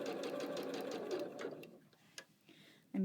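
A sewing machine stitches a zipper pouch with a 1/4-inch foot, a fast close rattling run that stops about halfway, followed by faint clicks and handling noises.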